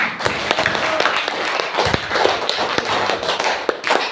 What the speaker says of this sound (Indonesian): kita beri tepuk tangan untuk kelompok 1, 2, dan 3